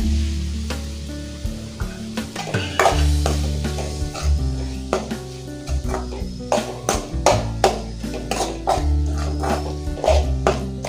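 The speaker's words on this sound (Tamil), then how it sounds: "தக்காளியும் சேர்த்து நல்லா வதக்கிக்கோங்க" Two chopped tomatoes sauté in a pan for a chicken gravy, with a bright sizzle and frequent clattering stirs over a low, steady hum, and no one speaking.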